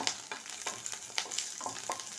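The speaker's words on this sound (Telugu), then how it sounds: "ఇందులో ఓన్లీ పచ్చిమిర్చి వేయించుకొని" Crackling sizzle of green chillies frying in hot oil in a pan, with intermittent scraping stirs over a steady spattering hiss.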